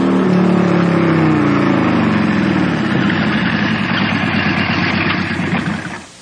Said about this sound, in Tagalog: May mihulong na motor sa tungod sa among kural.